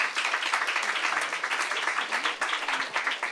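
Audience applause at an underground stand-up comedy club, a dense steady wash of many hands clapping together, loud and continuous for the full stretch without any voice rising over it.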